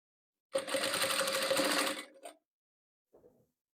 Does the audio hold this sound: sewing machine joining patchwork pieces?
yes